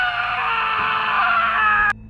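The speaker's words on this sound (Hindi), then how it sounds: "अचानक से मुझे किसी की चीखें सुनाई दी।" A sustained, strained scream rises and holds for nearly two seconds at close range, then cuts off sharply, leaving quiet background.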